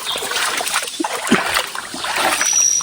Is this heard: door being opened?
no